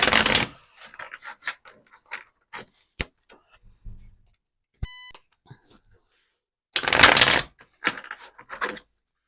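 Tarot cards being shuffled in two short, loud bursts of riffling and flapping card stock, separated by quieter taps, clicks and soft handling noises with a brief beep in between.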